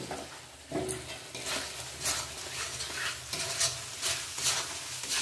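Ground cumin and coriander powder sizzle and fry in a hot pan while being stirred, a steady close crackle with periodic scraping strokes.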